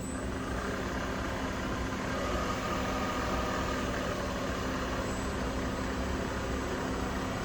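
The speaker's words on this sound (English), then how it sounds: "Now I'm gonna turn the machine on and adjust to 2000 RPM." A milling machine spindle spins at about 2000 RPM, giving a steady, quiet mechanical hum with a faint high whine that holds constant throughout.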